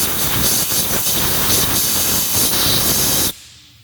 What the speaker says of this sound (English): Then I'm going to get air compressor and blow out the hole.